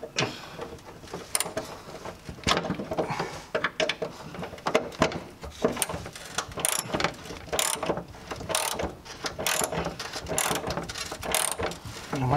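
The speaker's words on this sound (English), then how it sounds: "And you got the ratchet spanner." A ratchet spanner works on a 1971 Mustang during a build, giving quiet irregular clicks and clatters in bursts with mechanical handling noise, fairly close and low in level, with no clear talk.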